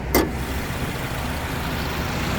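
A 2.5 litre boxer engine in a 2019 Subaru Outback 2.5i-X Special Edition idles steadily nearby, a low, even hum, with a brief click at the start.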